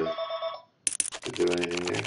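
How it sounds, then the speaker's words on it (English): Telephone ringing during a poker coaching broadcast, a brief electronic ring tone at the start followed by someone talking over it. "Never know when the phone's going to ring during a broadcast"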